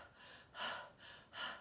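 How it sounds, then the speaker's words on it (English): A person breathing in audibly through the nose and mouth, two quick, airy inhalations close to the mic in a quiet room. "So if I'm breathing in"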